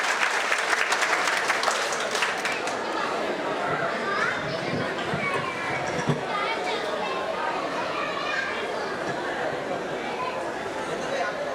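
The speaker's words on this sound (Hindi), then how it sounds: "पूरा सदन दोनों हाथ ऊपर उठाए, जोरदार तालियां बजा करके मोनिका को आमंत्रित" A whole hall of listeners breaks into loud, sustained applause for a poet being welcomed to the stage at a Maharana Pratap Jayanti kavi sammelan in Mulund, Mumbai, the dense clapping steady throughout with some crowd chatter mixed in.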